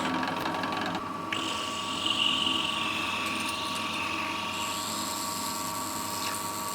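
Drill boring holes in metal with the workpiece clamped in a jig, a steady high-pitched whine with machine hum beneath, continuous and close for several seconds.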